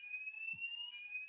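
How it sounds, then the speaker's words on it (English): A building fire alarm sounds during a weekly test, a steady piercing electronic tone held continuously at moderate volume, with a brief low thump partway through and no talk. "they test the fire alarm here every Tuesday"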